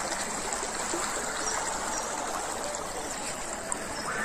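Steady broadband rush of a river flowing, continuous and fairly close, like a stream running over stones, with no voices.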